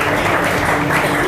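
A church congregation applauding and cheering for the Lord, a dense, loud, steady wash of clapping and voices filling the room for a brief moment.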